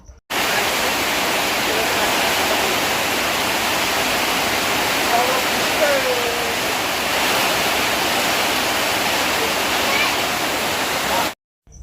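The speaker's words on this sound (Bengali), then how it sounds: "বলতে বলতেই ধামাকা পরিমাণে বৃষ্টি চলে আসলো" Heavy rain pours in a dense, continuous roar, loud and steady from start to finish, with faint voices beneath it.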